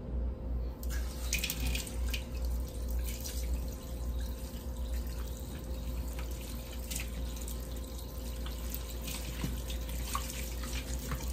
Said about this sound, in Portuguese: Bora lá enxaguar.